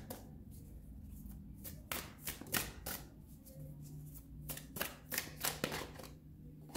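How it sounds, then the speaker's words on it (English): Tarot cards being shuffled and handled at close range, with soft riffling and sharp card snaps in irregular clusters over a low steady hum. "Let me just grab a couple more cards."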